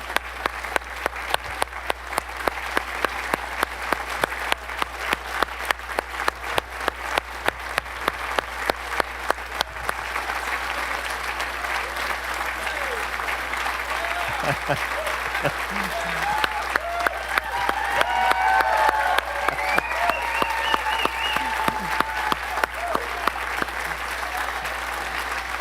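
An audience at a D-Day 80th anniversary commemoration honors World War II veterans with sustained applause, dense and steady throughout, and a few cheers rise partway through.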